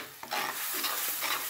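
Ingredients frying in oil for green moong dal gravy being stirred, a brief close burst of sizzling with scraping stirs.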